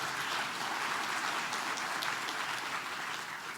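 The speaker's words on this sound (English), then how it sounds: "Another round of applause." An audience at a city State of the City presentation claps in a steady, even wash of applause, moderately distant and without speech.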